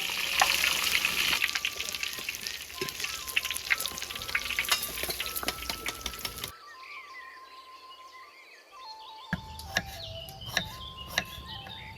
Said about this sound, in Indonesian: Goreng tahunya dulu lur.